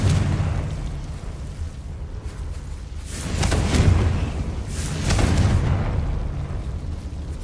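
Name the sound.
Confringo spell explosion from the video game Hogwarts Legacy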